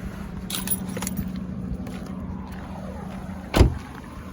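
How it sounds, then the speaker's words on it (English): A Ford Fiesta Zetec petrol engine, in a five-door manual hatchback, idles steadily, heard from outside the car as a low, even hum, with keys jangling and a single sharp knock near the end. "I'll just step out so that you can hear the engine running from the outside"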